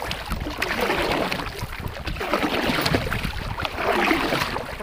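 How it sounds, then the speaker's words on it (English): A canoe is paddled on open water, with close, steady swishing and splashing of the paddle strokes and water rushing along the hull, with no talking. "So I'm going to keep paddling here."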